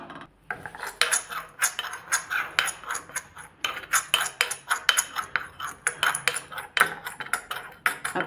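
Roasted turmeric is worked through a sieve over a hot kadhai with the gas off, a fast, steady run of metallic scrapes and clinks, close and continuous throughout.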